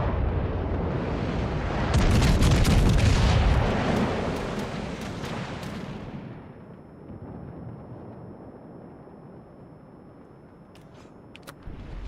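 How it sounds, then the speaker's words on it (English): In World of Warships: Legends, a warship's guns fire all together as one loud rumbling boom that swells and then fades into a long low decay, ending in a few faint clicks, with no talking. "Shoot again, all your guns at once."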